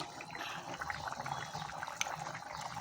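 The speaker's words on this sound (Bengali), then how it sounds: "ঝোলটা খুব ভালো মতো ফুটে গিয়েছে" A pot of egg and potato curry gravy bubbles at a steady simmer, with a continuous watery burble, small pops and a brief sharper spurt near the end, close up with no talking.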